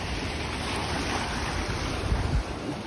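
Ocean waves on a shore in Japan, a loud continuous roar of surf mixed with wind buffeting the microphone, no voices.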